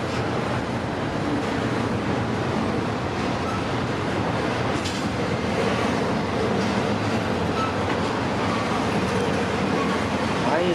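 A long freight train rolls slowly past with a steady, dense rumble of wheels and cars, another train running alongside on a smoky day; the noise is continuous and fairly loud, with no clear talk over it.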